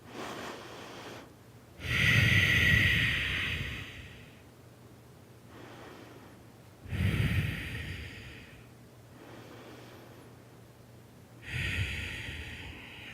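Slow, deep yoga breathing during a feet and ankles session: three long audible breaths, each a strong airy exhale several seconds long, separated by quieter inhales, close and alone over a faint steady hum.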